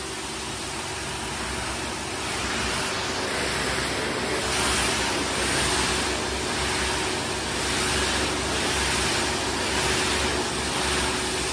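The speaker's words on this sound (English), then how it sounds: "Stand back, high pressure is about to go." High-pressure water jets blast a car inside a Mark VII AquaJet GT car wash in Wausau, Wisconsin, producing a loud, continuous hissing spray that swells and eases slightly over about twelve seconds.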